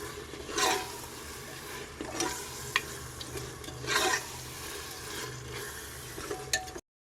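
Biryani masala being stirred and fried over a high flame, a steady sizzle with repeated scraping swells of the spoon against the pan every second or two, close and moderately loud with no talking.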